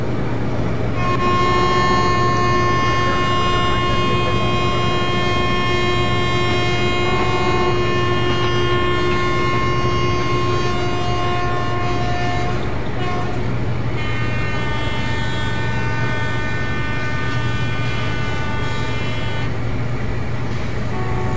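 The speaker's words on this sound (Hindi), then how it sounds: "और अभी एसी कोचेस जा रहे हैं।" An Indian Railways train with AC coaches rolls past in the MSTS train simulator game, a continuous loud engine and wheel rumble with long horn tones sounding over it throughout.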